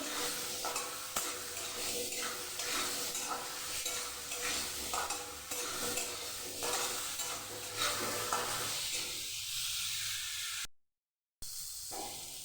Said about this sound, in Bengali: লবণ, আমি ভালো করে একটু ভেজে নেব হালকাভাবে।